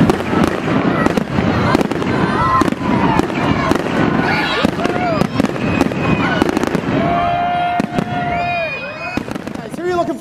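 Fireworks crackle and pop in rapid sharp bursts with whistling rising shells after a Santa Day night parade in Fenelon Falls, while a crowd cheers and people talk nearby.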